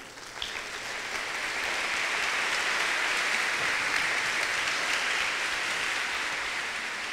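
A crowd at a Christian merengue concert breaks into applause, a broad, even roar of clapping that swells quickly and holds steady for several seconds before tapering slightly.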